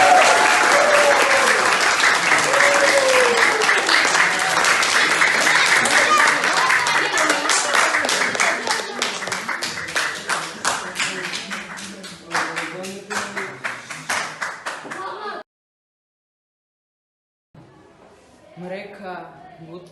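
Loud, dense applause from an audience at a school event, sustained for about fifteen seconds before thinning into scattered claps, then a brief pause and a faint return of a few claps.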